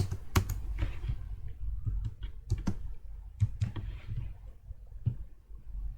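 CSS code being typed on a computer keyboard: quiet, close clicking keystrokes in irregular bursts with short pauses, no voice present.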